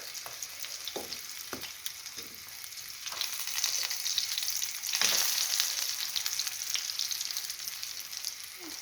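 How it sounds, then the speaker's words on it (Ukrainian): Steady crackling sizzle of zucchini slices frying in a hot pan, with a few light clinks and scrapes of a utensil; no talking. "так далі буду смажити всі кабачки"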